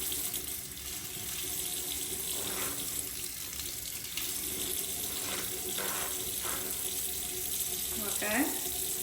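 Bathroom faucet running steadily into a sink while makeup brushes are rinsed, a constant close hiss of water with brief splashing as the brushes pass under the stream.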